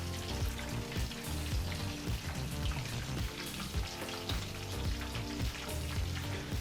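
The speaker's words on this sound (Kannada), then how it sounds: "ಈಗ ಚೆನ್ನಾಗಿ ಡೀಪ್ ಫ್ರೈ ಆಗಲಿ." Garlic chicken kebabs deep fry in hot oil, making a continuous, dense bubbling crackle that stays steady and fairly faint throughout, with no voices.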